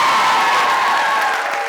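An audience applauds loudly, a dense steady wash of clapping with a few cheers mixed in.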